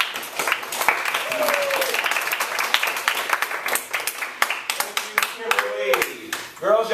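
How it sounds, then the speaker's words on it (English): An audience at a youth speaker event breaks into a steady, dense round of applause, scattered claps rising and thinning over several seconds while voices carry on underneath. "give me a round of applause."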